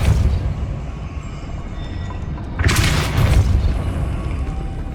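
A Depulso spell cast in Hogwarts Legacy lands as a single loud, bright burst about halfway through, rising out of a low rumbling game ambience and trailing off into a sustained roar.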